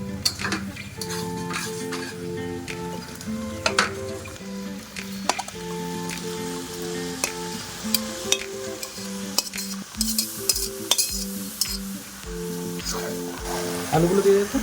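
Fried green jackfruit is tipped into tomato masala and stirred in a pan, with squelchy scraping and spoon clinks over a light sizzle while background music plays.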